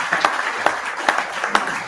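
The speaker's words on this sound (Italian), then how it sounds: "quindi ci farei un applauso," Audience in a packed hall at a left-wing political assembly claps, scattered applause with a few sharp, distinct claps standing out at a loose rhythm over a soft background.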